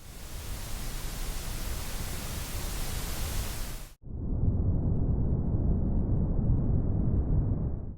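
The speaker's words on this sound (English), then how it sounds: "I love brown noise the best, it makes a much nicer sound than white noise" Steady, deep brown noise for baby sleep rumbles with a soft, muffled roar. It follows an abrupt switch from a brighter, hissing white-noise-like static.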